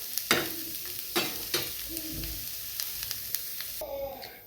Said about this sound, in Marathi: हे छान भाजून घ्यायचं आपल्याला कारलं.